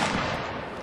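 A musket volley fired by a line of infantry in Mount & Blade Napoleonic Wars: a brief, dense crackling burst of overlapping gunshots that fades quickly, loud and close.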